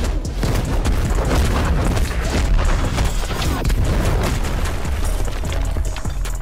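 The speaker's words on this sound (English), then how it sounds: "Now the third move is called Explosion Combo," Bakugo's Explosion Combo move in the Roblox game Heroes Battlegrounds, heard as a continuous loud barrage of booming blasts and crackling impacts that runs without a pause across the whole stretch.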